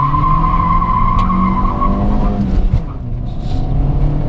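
A JAC J3 Turin sedan with 97,000 km on it accelerates hard from a standstill toward 100 km/h, its tires squealing loudly over the rising engine note, then the screech cuts off as the car pulls away.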